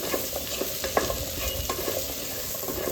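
Food fries in hot ghee while being stirred, giving a steady loud sizzle with repeated scraping strokes of the spoon against the pan.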